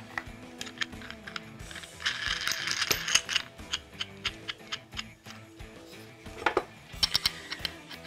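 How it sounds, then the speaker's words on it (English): Metallic clicks and ratcheting as a nut is tightened onto a bolt with a washer on the foot of an adjustable raised chair base, a series of close, irregular ticks and clinks with no speech. "I just simply tighten up this nut here to hold that firmly in place"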